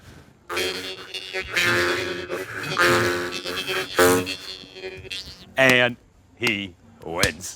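A voice imitates a laser gun fight with buzzing, zapping and whooshing mouth sounds, swooping up and down in short bursts, loud and close, and ends with a few spoken words.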